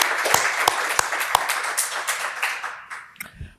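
Brief applause for a PhD defence, a modest group clapping with a few sharp distinct claps standing out before it thins and fades away.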